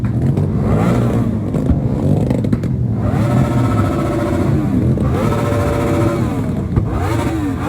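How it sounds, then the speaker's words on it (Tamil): A 2018 Yamaha R1M superbike revs its exhaust loudly and up close, the engine note rising and falling through several continuous throttle blips with no pauses. "எக்ஸாஸ் நோட் சத்தத்தை பார்க்கணும்."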